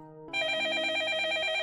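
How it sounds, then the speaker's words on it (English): An old-style telephone bell rings in a horror visual novel game, a bright metallic trill that bursts in loudly after a brief low tone and keeps ringing steadily. "Uh-oh, there's the phone."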